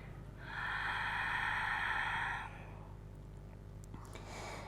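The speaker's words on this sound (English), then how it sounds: "exhale out through the mouth as you round through the spine" A forceful breath exhaled through the mouth during a Pilates exercise, a single breathy rush lasting about two seconds, close and fairly loud, followed by quiet room tone and a faint click.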